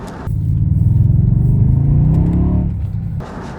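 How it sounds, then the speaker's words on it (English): A 1998 BMW 840 accelerates hard in its hidden launch mode on a slippery surface, a loud near engine roar that rises and holds for about two seconds, then eases off. "What it seems to do is pulse the power, probably pulse the brakes as well to try and get the traction back."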